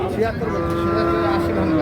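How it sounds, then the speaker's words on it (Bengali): A medium-sized bull at a livestock market gives one sustained, loud, close moo that lasts nearly two seconds. "মাঝারি সাইজের সার গরু"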